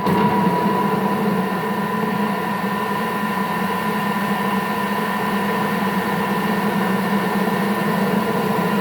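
A Thermomix TM6 whips an egg, whirring steadily at a constant pitch, a continuous motor hum with a faint whine, close and uninterrupted.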